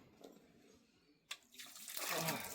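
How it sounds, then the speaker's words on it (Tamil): Water splashes and gushes into a container, rising to a steady, fairly loud pour after a few quieter trickles and clinks. "நான் இதில் தண்ணி வைக்க போகிறோம்."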